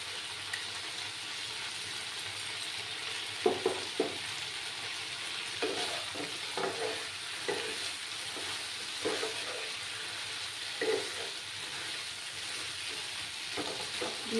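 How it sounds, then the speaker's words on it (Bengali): Spices and salt fry in hot oil for a paneer and cauliflower curry, a steady close sizzle with intermittent stirring scrapes and taps in the pan, no talking. "কিছুক্ষণ আমি ভালো করে কষিয়ে নেব"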